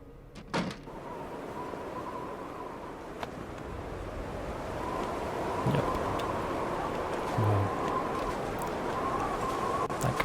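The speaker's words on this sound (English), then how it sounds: "It's horribly windy outside." Wind howls outside in the survival video game The Long Dark, a steady whistling drone that swells slightly midway, with a few faint knocks and clicks nearby.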